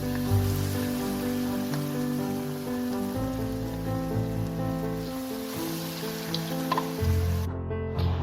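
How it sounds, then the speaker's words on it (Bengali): Battered green chilli pakoras fry in hot oil over a medium flame, giving a loud, steady sizzle and crackle throughout, with tonal music playing underneath. "সেগুলোকে আমি মিডিয়াম ফ্লেমে ভেজে নেব।"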